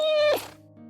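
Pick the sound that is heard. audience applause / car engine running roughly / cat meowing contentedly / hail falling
cat meowing contentedly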